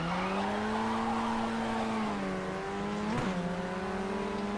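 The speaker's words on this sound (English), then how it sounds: "A little more tire spin than usual." An FF1600 race car in iRacing at a standing start at Brands Hatch Indy, its engine droning steadily and slightly rising while the tires spin and squeal continuously, loud and close throughout.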